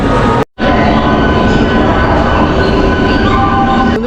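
A Howrah to Kharagpur local train rolls out with a loud, steady rumble and rattle close by, broken by one brief gap near the start before the noise resumes unchanged.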